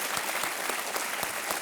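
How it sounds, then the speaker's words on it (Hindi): Studio audience on an Indian TV quiz show clapping steadily, a dense sustained burst of applause with no voices over it. "ताली बज जाए उनकी माता जी के लिए"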